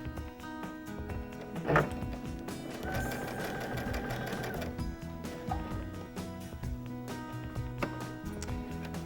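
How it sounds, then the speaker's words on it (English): A sewing machine runs in steady mechanical bursts, its needle chattering over a continuous hum, with brief pauses between stretches of stitching. "So let's move to the sewing machine."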